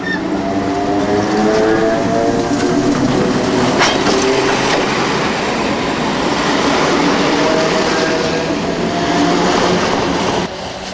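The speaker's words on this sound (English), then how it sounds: "this test train was caught by the photographer crossing the old trestle bridge at the start of the gradient" A test train rolls across an old wooden trestle bridge at the foot of a gradient on the Johnsonville line, a loud, steady rumble with wheel clatter and a sustained tonal hum throughout, dropping slightly at the end.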